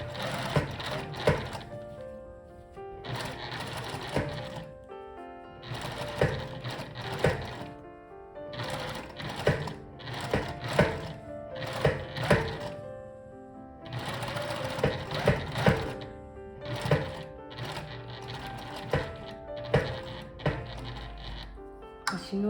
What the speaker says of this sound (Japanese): ぐるーっと1ミリのステッチをかけていきます